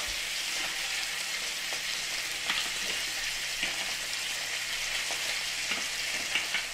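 Flank steaks sizzle loudly in a hot pan while being basted with the cooking fat, a dense steady crackling hiss punctuated by soft spoon taps.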